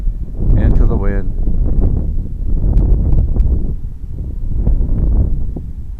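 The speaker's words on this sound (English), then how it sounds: "Quite a bit of wind, huh?" Gusty wind buffets the microphone at an RC model flying field, a steady low roar rising and easing throughout, with a small model aircraft motor whining briefly early on and people talking over it.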